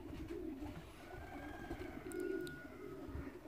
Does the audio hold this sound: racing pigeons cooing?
yes